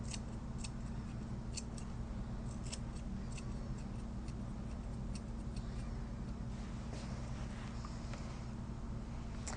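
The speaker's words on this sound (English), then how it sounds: "you can actually turn your scissors, your curved scissors, backwards like this again, and go in here." Curved grooming scissors trim a schnauzer's fur, making rapid, steady metallic snips up close, repeated continuously over a constant low background hum.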